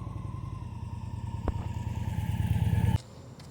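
A motorcycle idles and putters at low speed through a slow U-turn at roughly 7 to 10 mph, its engine note building slightly before cutting off abruptly near the end.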